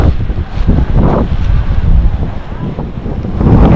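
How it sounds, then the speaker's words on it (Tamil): Strong wind gusts buffet the microphone on a hilltop temple trail, a loud, continuous rumbling roar that swells and eases, with no talking. "காற்று எப்படி அடிக்குது பாருங்க."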